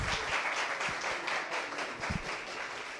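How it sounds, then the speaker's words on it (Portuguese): Scattered applause from an audience after a writing class lesson, a dense patter of clapping that stays fairly quiet and steady for a few seconds with no voices over it. "Vamos aplaudir, galera."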